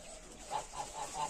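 Four short, soft quacks from ducks, evenly spaced and somewhat distant over a faint background hiss.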